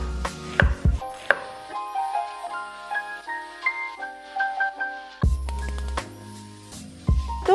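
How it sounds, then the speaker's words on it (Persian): Two onions finely chopped with a cleaver on a board: a handful of sharp, close knocks at the start and end, with a melodic musical background running between them. "من 2 تا پیاز رو ساتوری ریز خورد میکنم"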